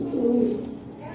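Soft, low pigeon cooing with a throaty, rolling tone, close by and steady over a quiet background.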